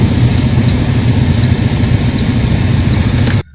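A semi truck revs near and loud as it pulls away from an uncoupled trailer, its engine drone holding steady for about three seconds before stopping abruptly.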